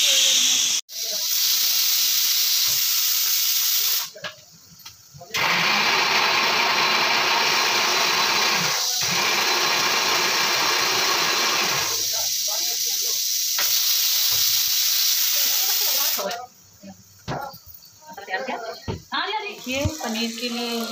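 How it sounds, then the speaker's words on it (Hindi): Onions frying for a paneer curry in a home kitchen give a loud, steady hiss that runs through most of the stretch, broken by brief pauses and a few moments of nearby talk. "पनीर के लिए ये प्याज भून गया है अच्छे से।"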